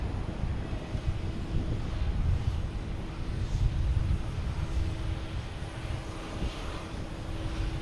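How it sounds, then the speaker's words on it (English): An American Airlines jet arriving from Indianapolis at Boston Logan gives off a continuous, moderately loud engine roar with a low hum and some wind buffeting on the microphone, with no speech. "next to arrive will be American Airlines coming in from Indianapolis"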